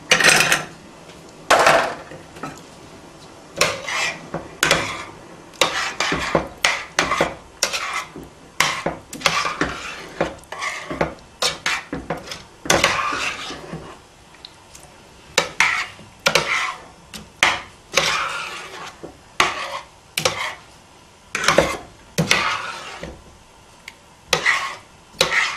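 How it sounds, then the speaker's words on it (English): A wooden spoon stirring ravioli sauce in a pot, with repeated scraping and clacking strokes in an uneven rhythm, close and fairly loud throughout. "Now we'll give it a stir"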